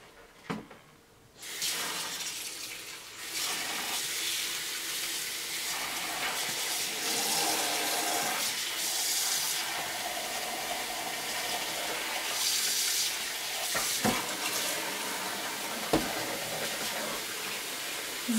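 A skein of yarn dyed with raspberry Gatorade is rinsed under running water, a steady close splashing flow from a tap that carries on throughout with occasional handling knocks.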